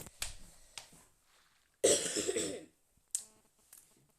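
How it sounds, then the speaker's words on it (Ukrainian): A few short, dry coughs in a quiet room: a faint one, another, then a louder harsh burst, followed by one more brief cough, from a lingering cough. "Ще не пройшов кашель."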